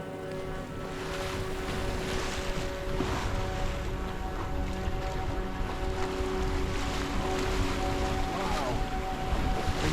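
Strong gusty wind buffeting a sailboat at sea in the North Atlantic near the Faroe Islands, with waves washing around the hull in a constant loud roar and the wind pressing on the microphone.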